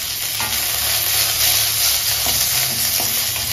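Oil sizzles steadily in a pan with a dried red chili, a loud, continuous hiss with soft stirring scrapes and no voices.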